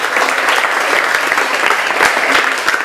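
Loud, dense applause from a congregation acclaiming Jesus Christ at a Congolese church gathering, with sharper claps and bursts popping out of the continuous wash of clapping throughout.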